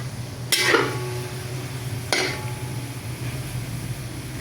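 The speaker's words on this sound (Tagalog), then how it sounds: "So, gigisa po natin sa toyo." Meat sautéing in soy sauce in a pan, with two sharp metallic scrapes or clanks of a utensil against the pan over a continuous low sizzle and background hum.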